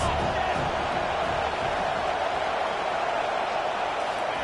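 Simulated stadium crowd in a college football video game builds a constant, dense roar on a third down, with no pauses across the stretch.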